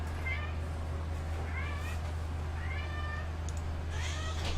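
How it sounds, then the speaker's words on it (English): Several drawn-out cat meows from a male house cat rise and fall at a steady pace. They sit over a constant low electrical hum in a quiet room, and a faint sibilant sound comes near the end. "So here comes the cat."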